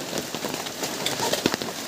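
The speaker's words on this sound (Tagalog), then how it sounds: "Kaya wala pong tigil ang ulan." Steady rain pours in a forest, a dense continuous hiss of drops hitting leaves and ground, close and even throughout with a few sharper splashes.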